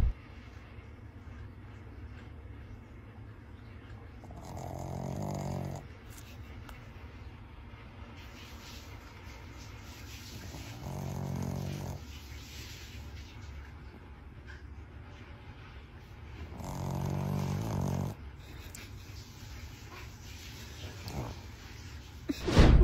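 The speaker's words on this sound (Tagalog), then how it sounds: "naisipan niyang i-record ang paghilik ng kanyang alagang Shih Tzu" A sleeping Shih Tzu snores loudly at home, with four drawn-out snores spaced several seconds apart and quiet breathing between them, heard close up.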